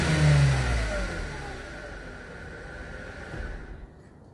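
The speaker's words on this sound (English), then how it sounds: "Give it a bit of a rev." An Audi S3 (8L) car engine revs up loudly at the start, then settles into a lower idle that drops away near the end.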